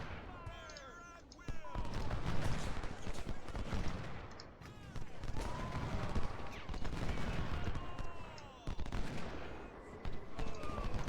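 Musket volleys and artillery fire from a Civil War battle in the strategy game Ultimate General, dense crackling gunfire rolling almost continuously with brief gaps, loud and busy throughout.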